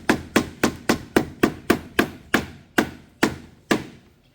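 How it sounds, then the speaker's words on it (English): A hammer taps a glued piece into place during a kitchen remodel, about a dozen sharp, close strikes in a steady rhythm that spaces out slightly toward the end, with no talking. "Hammer that nice there."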